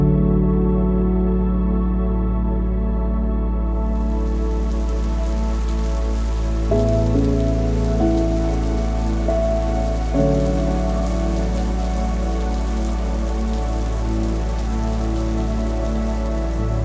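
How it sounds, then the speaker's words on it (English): Steady rain downpour falling during a storm, a constant dense hiss of drops on surfaces that runs without a break, with a low hum underneath and no voices. "We've had a few downpours of rain and 1 rumble of thunder in the distance."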